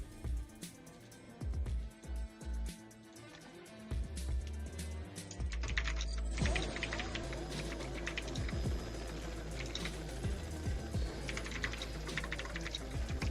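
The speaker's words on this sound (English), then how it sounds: "he's getting to typing now" Rapid clicking keystrokes on a computer keyboard come in quick bursts, close and clear, with other background sound layered underneath.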